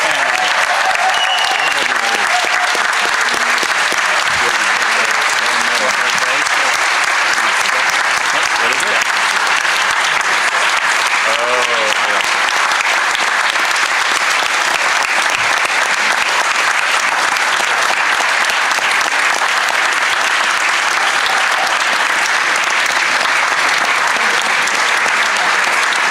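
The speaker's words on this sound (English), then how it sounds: "Let's give them all a round of applause and welcome them to the family." Audience at a school district budget meeting giving a sustained round of applause, dense steady clapping filling the room for over twenty seconds with a few voices faintly mixed in.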